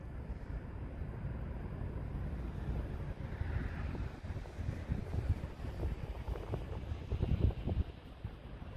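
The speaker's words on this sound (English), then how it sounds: "the wind is pretty heavy here" Strong wind buffets a microphone outdoors while a Vcoptr Falcon drone flies in sport mode, a steady low rumbling roar that swells and gusts louder toward the end, with no talking.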